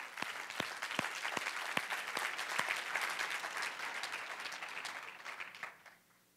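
An audience at a French-speaking church gathering applauding, a quiet, moderately dense patter of clapping with a few sharper claps early on, fading out at the end.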